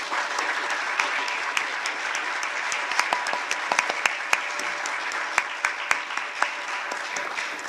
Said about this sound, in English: Now's the time to give them a round of applause.